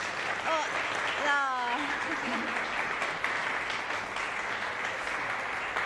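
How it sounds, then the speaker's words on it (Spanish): Audience applause for a Mendoza choir honoring Lionel Messi: steady, close crowd clapping runs throughout, with brief voiced cheers or whoops early on. "Un aplauso para todos."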